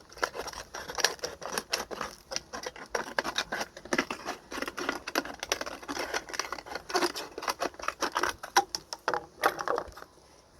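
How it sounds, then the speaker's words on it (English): Scissors snip through the bottom of a 2-liter plastic bottle, a steady run of crisp, close cuts and crackling plastic that carries on without a break. "Essentially what you want to do is you want to create a teeny tiny hole, and then you're just going to cut off the bottom."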